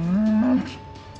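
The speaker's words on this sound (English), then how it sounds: "Two cows." A single loud, drawn-out cow moo from a video game rises slightly in pitch and then cuts off, leaving a faint steady tone. No one speaks.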